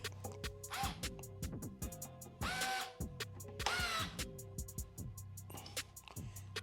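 A Bosch GO 2 cordless screwdriver drives screws at different torque settings, giving several short whirring bursts of motor whine that rise in pitch and end abruptly, with quiet pauses and clicks between them.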